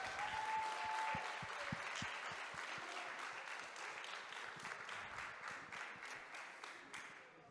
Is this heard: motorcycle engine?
no